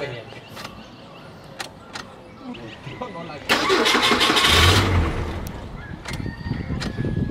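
A car engine being cranked after a pump install, starter whirring in repeated attempts before a louder surge as it briefly catches, with a person talking over parts of it.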